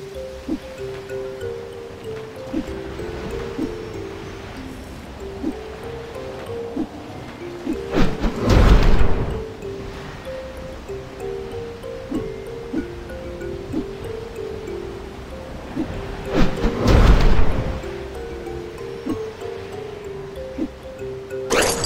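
Water waves in the video game American McGee's Grimm, The Fisherman and His Wife episode, with two big surging swells rising over a steady bed of game ambience and a repeating tonal pattern.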